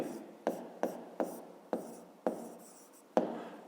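Pen strokes on paper while working a fifth-grade rectangle-area math exercise: about seven quick, close scratching strokes spaced irregularly, fairly quiet, with no talking.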